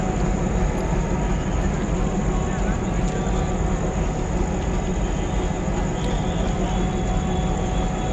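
A passenger train in Chandmari, Guwahati, with a fire in its rear coach, produces a steady, loud rumble that runs unbroken throughout, with people talking faintly underneath.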